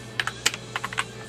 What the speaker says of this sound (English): Oh my god, this freaking keyboard.